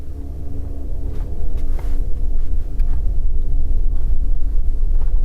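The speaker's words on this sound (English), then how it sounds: "Many electric cars emit a synthetic noise to make up for the fact they don't have a normal engine noise." Rolls-Royce Spectre electric car giving off its synthetic driving sound, a low, ominous droning hum that swells as the car moves, heard close and loud with some wind rumble and no talking.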